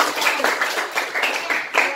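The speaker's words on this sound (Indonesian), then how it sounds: "tepuk tangan buat kita semua" A classroom of students clapping together, a dense patter of many hands with slightly uneven bursts, fairly close and steady throughout.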